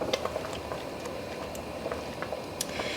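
Peach jalapeno jam mixture with pectin coming to a boil in a pot, a quiet steady bubbling patter with small scattered pops.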